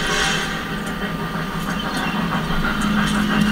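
A train in the video game Red Dead Redemption 2 rumbles along with a continuous loud roar, hissing steam and faint rhythmic clacking, with no talking.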